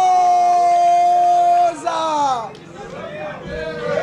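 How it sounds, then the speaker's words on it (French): A crowd at a Sapeurs' press conference cheers and whoops for the stylist Kaditoza, a loud roar of voices with a sustained shout that gives way to lively babble and yells. "Applaudissez très fort pour celui qu'on appelle Kadi"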